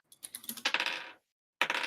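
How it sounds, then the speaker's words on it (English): A big handful of dice rolls across a table during a tabletop role-playing game, giving a rattling, clicking clatter that settles, then a second short burst of dice, close and without speech. "That sounds like a lot of dice."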